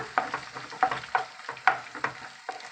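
Egg rice ingredients with cumin frying in a pan at a roadside-style kitchen, close irregular stirring strokes and scrapes over a soft sizzle, with no voices.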